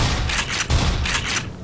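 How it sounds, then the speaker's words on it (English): Several quick gunshots fired in Black Mesa, a first-person shooter, in a tight rhythmic cluster of loud, close bangs with a deep boom in the middle, no voices over them. "Guess I'll shoot him."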